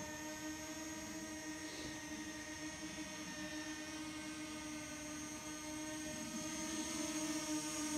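A DJI Mini 2 SE drone taking off and hovering close by in icy cold conditions, a steady high-pitched propeller whine with tonal buzzing that holds constant and swells slightly near the end.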